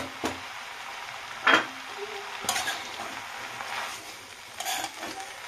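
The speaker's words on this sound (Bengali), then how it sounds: "তো সেহেতু আমি এখনই শাকগুলো দিয়ে দিলাম, দিয়ে কিছু সময় ধরে কষাবো।" Note greens and bitter gourd being stir-fried in a pan, with a few distinct scrapes of a spatula against the pan over a soft, low background sizzle and no talk.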